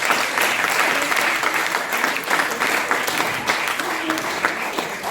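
Sustained audience applause fills the room at a business and success-stories speaker event, a dense steady clatter of many hands clapping at close range and fairly loud for the whole stretch, with no talk over it.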